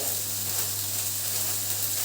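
Meat frying in a pan, a steady, dense sizzle and crackle that holds evenly throughout, close and fairly loud with no voices over it.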